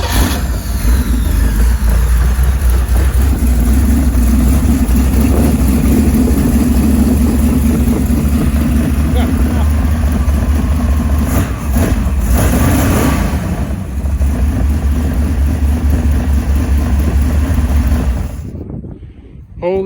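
Engine of a cheap used jet boat that has sat unused, starting and then running at a loud, steady, rough rumble for nearly the whole time before cutting off abruptly at the end.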